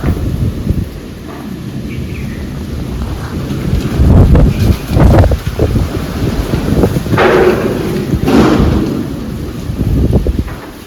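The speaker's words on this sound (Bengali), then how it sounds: "খুব জোর হাওয়া উঠেছে" Strong wind roars and buffets the microphone in heavy, rumbling gusts that rise and fall throughout, loud and close.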